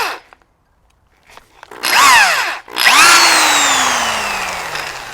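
A handheld power drill fitted with a depth gauge bores a hole in two close, loud bursts, whining up to speed and then winding down with a falling pitch.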